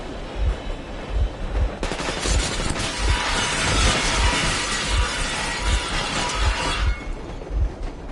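Sustained machine gun fire in a PS4 video game, rapid bursts of automatic shots with a steady thumping rhythm and a sharp, crackling, shattering wash across the middle, loud and close with no talk.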